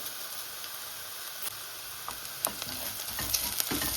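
Three chillies stirred and fried in a pan for prawn curry, a soft continuous sizzle broken by light scrapes and clinks of the spoon, growing busier toward the end.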